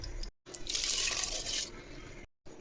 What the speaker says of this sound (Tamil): அரிசி இது போல் கழுவி எடுத்துக்கணும்